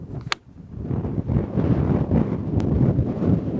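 Wind gusting across an open golf course, a continuous low buffeting rumble against the microphone with a couple of brief sharp ticks near the start.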